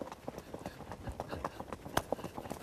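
Icelandic horse hooves beat in a quick, even four-beat tölt rhythm on firm ground, close by and moderately loud, with faint voices underneath.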